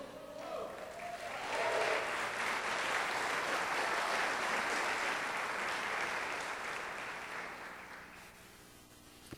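A church congregation applauding, the clapping building quickly into a sustained, full wash of hands that holds for several seconds, then slowly tapers off.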